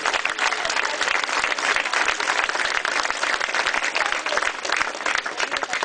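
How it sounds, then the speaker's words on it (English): Political volunteers at a Conservative barbecue event clap steadily after their May election campaign work, a dense, loud burst of crowd applause that runs unbroken for about six seconds. "Give yourself a round of applause."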